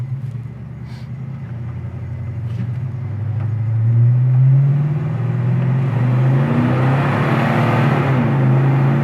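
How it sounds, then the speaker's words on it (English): A 1970 Oldsmobile 442 accelerating hard, its engine rising in pitch through the gears with a building rumble and growl, heard from inside the car. "I'm gonna go ahead and go through the gears here."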